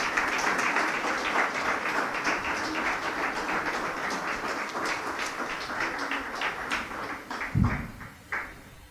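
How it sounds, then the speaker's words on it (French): Audience at a president's cocktail reception applauds steadily for several seconds, a dense wash of clapping in a room, with a few louder bumps and scattered claps near the end. "On peut les applaudir maintenant"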